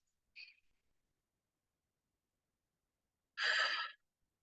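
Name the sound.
deep breath in and release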